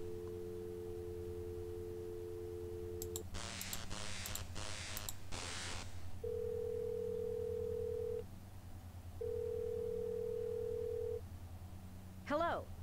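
Telephone dialing in the point-and-click game Thimbleweed Park: a steady dial tone, then a quick run of keypad tones, followed by two long ringback tones separated by a pause, ending in a brief click.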